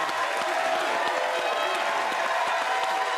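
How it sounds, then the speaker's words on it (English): A studio audience at a late-night talk show applauds continuously, a steady patter of many hands with some cheering mixed in, heard at moderate distance. "when the crowd gets so loud"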